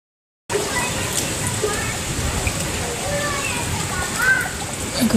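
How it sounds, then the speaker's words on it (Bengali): Heavy evening rain, heard as a steady, dense wash of falling water that starts abruptly and holds at an even level for several seconds, fairly close. "আজকে দারুণ বৃষ্টি হলো, সারা সন্ধে, মানে দারুণ বৃষ্টি হয়েছে আজকে"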